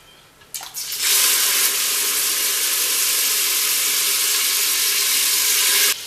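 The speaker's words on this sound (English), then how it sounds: "throw them in the pot and cook them just a little bit so that the outside of the pieces of meat turn golden" Veal pieces hit a hot pot and start browning, bursting into a loud, steady, broadband sizzle that holds evenly for about five seconds after a brief clatter at the start.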